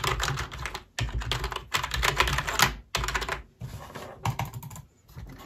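Keys clatter on a CyberPowerPC gaming keyboard in rapid, uneven bursts of close typing, broken by a few short pauses, with no voices over it.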